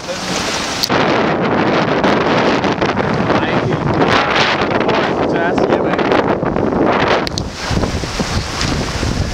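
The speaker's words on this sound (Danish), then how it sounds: "Så kom der lige i gang i vinden lige pludselig." Strong wind buffets the microphone aboard a cruising IF Folkboat sailing boat, a loud, steady rushing roar with water noise beneath it that eases slightly near the end.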